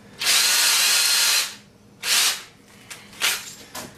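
Power drill spinning a TV antenna piece outdoors: a long loud whirring burst, then a shorter second burst, followed by a few brief quieter spin-ups.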